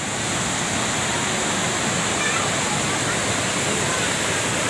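The Osam hill waterfall pours down steadily, a loud, unbroken rushing roar that fills the whole stretch without a pause.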